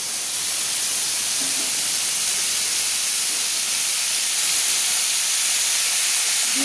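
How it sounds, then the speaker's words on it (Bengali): Diced potatoes fry in hot mustard oil, making a steady, even hiss of bubbling oil that stays close and unbroken throughout. "সর্ষের তেল দিয়ে আমি আলুগুলো ভেজে নেব"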